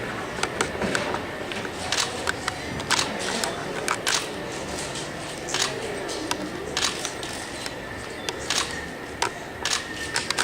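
Camera shutters click in scattered bursts as a cosplayer poses at an anime convention costume contest, with quick clusters of clicks over a low crowd murmur and some talk.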